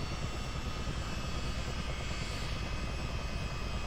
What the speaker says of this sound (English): Engine's coming up.